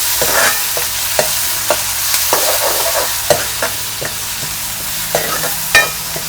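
Onion sautéing in a pan for a chavali bhaji, with a steady sizzle broken by repeated clicks and scrapes of stirring at close range.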